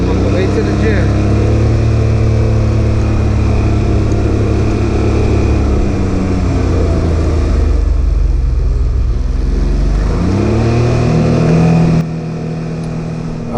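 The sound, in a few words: Can-Am Ryker 900 cc three-wheeler engine revving on a ride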